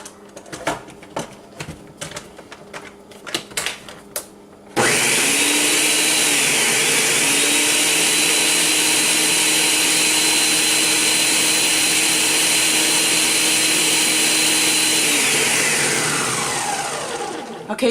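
An electric blender pulses oatmeal powder and baking soda in one long, loud, steady whir that winds down at the end, preceded by clacking handling noises and a voice.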